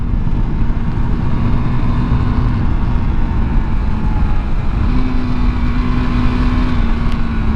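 A KTM 390 Adventure motorcycle on Kenda Trakmaster DTR tyres pulls hard in third gear on a wet road, its engine drone loud and steady with a rising tone partway through, constant wind and road noise underneath.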